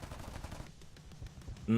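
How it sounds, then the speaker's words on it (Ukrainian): Rapid machine-gun fire from a P-38J-15 aircraft in the video game War Thunder, a dense rattling burst under faint background sound, cut off near the end by a sharper sound. "Пуму ми, до речі, можемо і із гармат вбити. З кулеметів, точніше."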